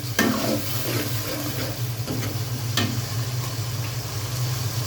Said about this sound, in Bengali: সামান্য পরিমাণ লবণ, দিয়ে একসাথে আমি মশলাটার গন্ধ যাওয়া পর্যন্ত একটু নেড়ে নেব।